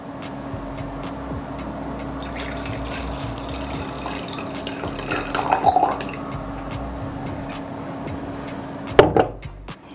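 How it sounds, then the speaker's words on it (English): Australian Nebbiolo red wine pours steadily into a glass at a tasting, a close, continuous liquid trickle with a brief splashy burst near the end, under a faint steady background hum. "So one pours wine,"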